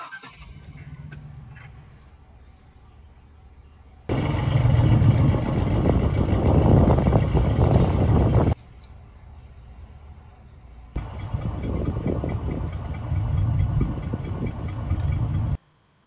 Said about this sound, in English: I'm going to start the car now.